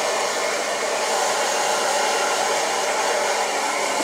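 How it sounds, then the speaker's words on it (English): A hair dryer on its single heat setting blows steadily as damp hair is dried downward, a loud, continuous whooshing rush that holds even and unbroken from start to finish with no talking. "Always blow drying down."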